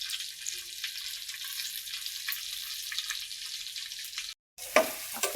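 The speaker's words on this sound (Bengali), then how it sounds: "এই জায়গায় মাছ তেলে ভাজি করতেছি" Fish frying in oil alongside ghee, onion and chili cooking, a dense close sizzle crackling steadily for several seconds, then a brief cutout and a louder scrape or stir.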